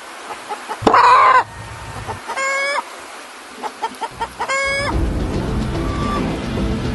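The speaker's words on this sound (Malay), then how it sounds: "Banyak ayam ni." Chickens and a rooster around a rural yard, sharp clucks and cackling bursts in loud clusters with a short crowing call, close by over quiet gaps.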